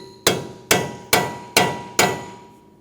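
Five loud, evenly spaced hammer blows strike a peened CV axle nut on a 2012-2019 Fiat 500 1.4L. Each sharp metallic hit rings out briefly before the next.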